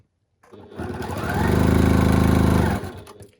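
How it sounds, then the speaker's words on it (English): A sewing machine stitching a quilt block runs up to speed, holds a steady rapid mechanical whir for about two seconds, then slows and stops, loud and close with no talking. "I'm manipulating it over here on my sewing machine to be able to sew it"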